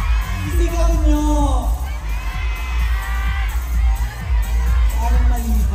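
A dense crowd of fans shouts and cheers at a Metro Manila Film Festival 2024 fan event, with loud, sustained massed voices, whoops and yells rising and falling throughout.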